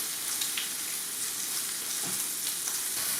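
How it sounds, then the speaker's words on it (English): A Wagyu steak sears in a hot pan with a dense, continuous crackling sizzle, steady and fairly close, with no talking over it. "Just wait for the other side to sear and get nice and crispy."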